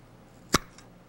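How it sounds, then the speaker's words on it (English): One sharp metallic pop from a canning jar lid snapping down, brief and crisp, alone in quiet. "That's the sound that lets you know you've had a great seal."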